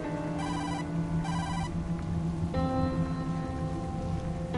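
A telephone bell rings inside a supernatural Tokyo detective video game, in two short bursts followed by a longer sustained ring over a soft background drone.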